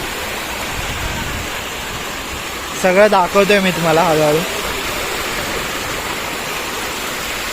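A waterfall in Thane district roars in a steady, loud broadband rush from start to end, while someone speaks briefly in the middle over the constant water noise.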